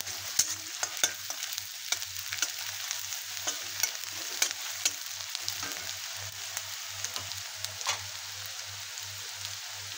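Mashed boiled potato and pea sandwich filling with ground green chili sautéing in a pan: a steady close sizzle with repeated spatula scrapes and taps over a low background hum.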